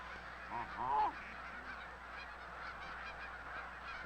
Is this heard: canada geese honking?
yes